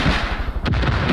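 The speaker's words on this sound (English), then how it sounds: "See how you fire the missile." A missile launched in the video game Far Cry 5 gives a loud, sustained roaring blast with a sharp burst near the middle, heard alone without talk.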